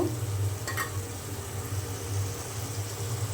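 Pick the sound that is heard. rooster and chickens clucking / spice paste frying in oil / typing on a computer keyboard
spice paste frying in oil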